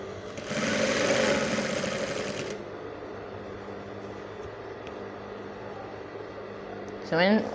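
Sewing machine stitching the hem of a cowl kaftan, a steady mechanical whir running loud for about two seconds before fading into quieter room noise, with a brief sharp sound near the end.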